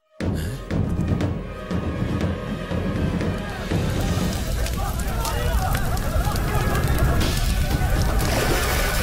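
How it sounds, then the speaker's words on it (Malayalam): Fire raging through a bank building in a Malayalam film scene: a loud, continuous crackling roar with splashing, rushing noise, mixed under excited voices and crowd commotion. "ബാങ്കിന് തീ പിടിച്ചു."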